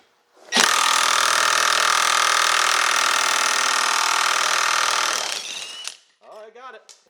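A Harbor Freight Earthquake XT impact wrench hammers on a 3/4 inch bolt with a lock washer, a loud, steady, dense rattling burst lasting about five seconds before cutting off, followed by brief faint sounds at the end.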